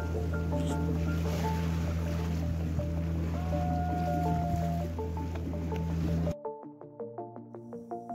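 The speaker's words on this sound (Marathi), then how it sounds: "सुंदर असा अरबी समुद्र व त्यामध्ये किल्ल्याच्या दिशेने जाणारी आपली बोट" A boat crosses the Arabian Sea toward Sindhudurg Fort, its engine drone steady and loud with water rushing and splashing against the hull, joined near the end by rhythmic tonal music.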